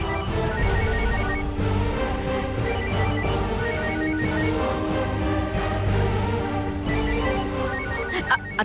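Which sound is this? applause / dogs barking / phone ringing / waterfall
phone ringing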